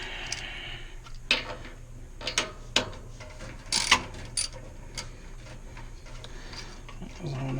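Ratchet and socket clicking while loosening a tight fastener during a Utica furnace inducer motor swap, heard as scattered short bursts of ratcheting close by over a low steady hum.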